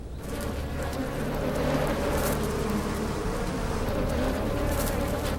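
A steady, dense buzzing of many bees, continuous and fairly close, with no other sounds standing out.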